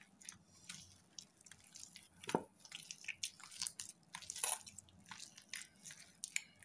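Ripe palm fruit being mashed by hand after water is sprinkled over the seeds, giving close, quiet wet squishes and drips in an irregular rhythm with one sharper splat midway; no voices.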